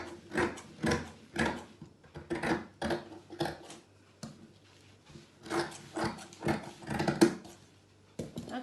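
Scissors cutting through blouse sleeve fabric in a tailoring session, a run of crisp, close snips in uneven bursts with short pauses between them.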